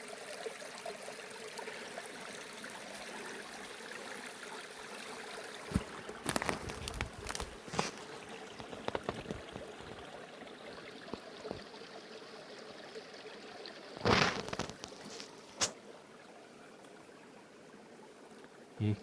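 A small forest stream trickles steadily over wood and plants, a soft continuous flow with a few brief louder splashes or handling noises partway through.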